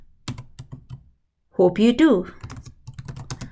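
Rapid typing on a computer keyboard, crisp clustered keystrokes near the mic, pausing briefly while a voice speaks, then resuming in a quick irregular patter.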